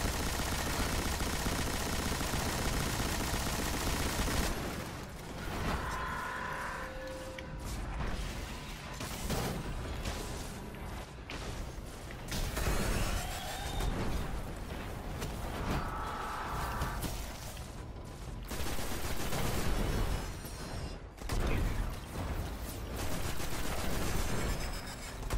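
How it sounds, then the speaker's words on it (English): A light machine gun fires in the Destiny Earth shooter game, with rapid dense bursts of gunfire across a busy, continuous loud game soundtrack, no speech. "let's pull out the light machine gun"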